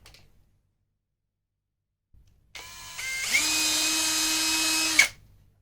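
A power drill bores a hole through a heavy-duty gallows shelf bracket in one continuous whine lasting about two and a half seconds, close and loud, with no other sound around it.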